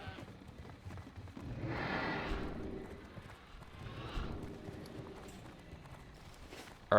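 Horse hooves clip-clop in World of Warcraft during hardcore Rogue leveling, a steady moderate patter of several mounts with a louder swell partway through, running under faint game ambience.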